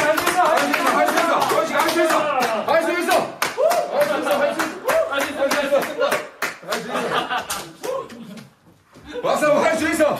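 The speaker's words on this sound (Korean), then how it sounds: "박수, 할 수 있어." During a church youth group gathering, people clap in a quick, steady beat while voices talk and call out over the top. The claps carry on almost throughout, thinning briefly near the end.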